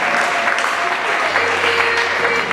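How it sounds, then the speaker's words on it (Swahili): Church congregation clapping for their treasurer, a dense, steady wash of applause from a crowd, loud and close throughout. "Tumpigie Yesu makofi kwa ajili ya mhasibu wetu"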